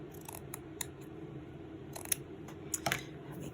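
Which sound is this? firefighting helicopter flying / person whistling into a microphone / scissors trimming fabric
scissors trimming fabric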